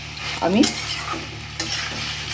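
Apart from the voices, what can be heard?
stirring pumpkin curry with fried peanuts in a pan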